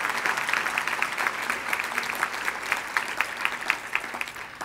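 An audience at an awards ceremony applauds the award recipients with steady, dense clapping from a large crowd, continuous throughout and without talk.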